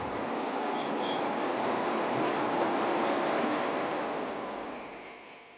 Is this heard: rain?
no